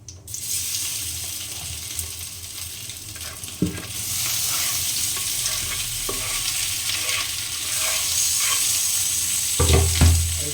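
Potatoes frying in a pan with a loud, continuous sizzle that swells after a few seconds, a couple of knocks of a utensil, and a brief low thump near the end.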